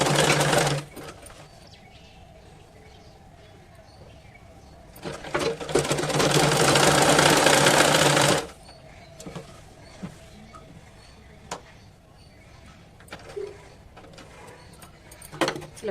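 An electric sewing machine stitches folded fabric for a baby top and palazzo pant, a short burst then a longer steady whirring run of about three seconds, close and loud, with quiet handling clicks between runs.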